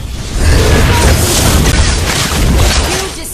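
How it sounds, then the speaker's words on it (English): A turret is destroyed in Mobile Legends, heard as a loud, dense, sustained booming crash of explosion and debris that rumbles for about three seconds with no speech over it. "You destroyed the turret!"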